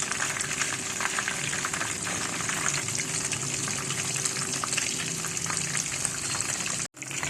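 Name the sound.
boneless chicken pieces frying in oil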